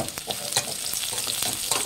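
Dried red chillies fry in a pan over a medium flame for holige saaru, with cumin to follow. A bright, crackling sizzle runs steadily with quick scraping stirs, loud and close, and no voices.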